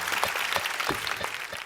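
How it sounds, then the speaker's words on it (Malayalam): A studio audience at a Malayalam comedy show claps together in a brief, dense burst of applause, steady and fairly loud throughout, with no one speaking. "കൈയടിക്കൂ."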